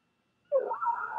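A voice mimics a fire truck or police car siren, a single rising-then-wavering wail that begins abruptly after a short silence and holds fairly loud and steady to the end.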